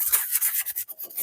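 Rhythmic abrasive rubbing sounds close up as a rust spot on a 2004 Vespa scooter is wet sanded, quick repeated strokes with no talking.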